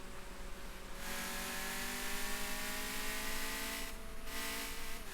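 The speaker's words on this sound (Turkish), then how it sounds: "Arabanın sesi falan gayet güzel egzozu." A racing car engine in the video game Car Parking Multiplayer 2 revs and accelerates steadily with a throaty exhaust note, rising in pitch as it gains speed, with no talking.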